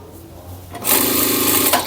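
Sewing machine stitching two layers of fabric together for a cotton eco tote bag, running in one steady loud burst after a quiet start.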